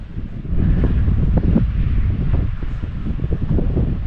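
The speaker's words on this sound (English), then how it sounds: "A little bit windy." Steady wind buffeting the microphone outdoors on the Cornwall coast, a loud continuous low rumble with gusty fluctuations throughout.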